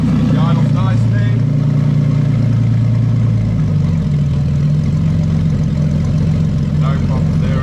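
A Toyota JZ engine running on an ECUMaster Black-managed harness settles into a steady, close low idle, its even rumble continuing throughout with a slight shift in pitch partway.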